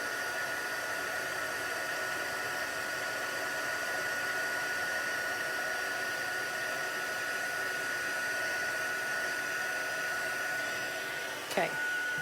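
A heat tool melting clear embossing powder gives off a continuous whooshing hiss with a faint high-pitched whine, steady throughout until a brief clunk near the end.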